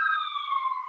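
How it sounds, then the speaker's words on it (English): An emergency vehicle siren from a fire truck or ambulance near a nursing home wails steadily and loudly, a sustained tone slowly sliding downward with no voices over it. "so excuse me, there's some sirens, but that's you got the constant fire truck, ambulance."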